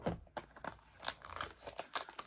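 Scissors snip and tear at crinkly plastic blind-bag packaging holding Disney Doorables villain figures, producing a run of close, sharp crackles and rustles over a couple of seconds with no talking.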